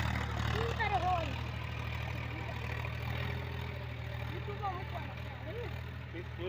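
A tractor engine idles in a steady, low, continuous drone throughout, with faint voices and outdoor sounds drifting over it.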